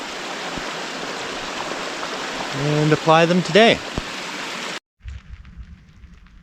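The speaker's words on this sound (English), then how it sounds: "It's raining." Steady rain falls in the mountains of Olympic National Park, a broad hiss running for nearly five seconds while someone speaks over it, then the downpour cuts off abruptly into a quieter, muffled patter.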